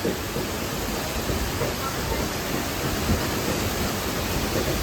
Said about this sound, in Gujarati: અવાજ તમે સાંભળી શકો છો વરસાદનો